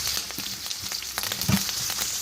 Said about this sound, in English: I will just sear it, and then when it's done searing both sides, we'll put it in our pot